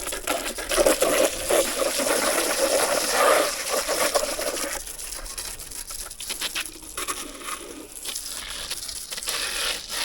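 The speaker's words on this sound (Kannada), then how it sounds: "ಸುಮ್ಮನೆ ನೀರು ಇಳ್ಬಿಟ್ಟು ಬಿಡೋಣ, ಧೂಳೆಲ್ಲ ಹೋಗುತ್ತೆ" Water poured over a dusty car parked under a tree, a continuous splashing patter with crackling droplets, louder at first and then thinning into irregular trickles and drips.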